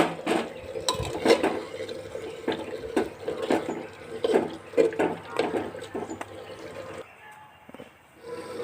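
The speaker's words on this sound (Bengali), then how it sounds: "তাই দু তিনবার নেড়ে দিলাম" A spoon stirs chicken inside a handi pot, giving several scraping, clattering strokes against the metal with wet shuffling between them, followed by a quieter pause near the end.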